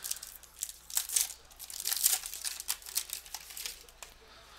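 A foil wrapper on a 2014 Bowman Sterling football card pack is torn open, producing faint, close crinkling and crackling in uneven bursts over a quiet background.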